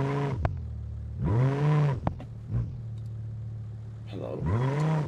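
A car engine in the driving game BeamNG revs in short, rising bursts between pauses, moderately loud and close, with a voice talking alongside.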